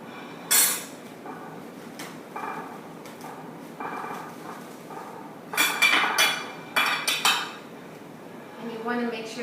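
Potatoes are tipped into a hot roasting pan and spread around, producing bursts of clattering and metallic scraping, several separate knocks, close and fairly loud, with short quiet gaps.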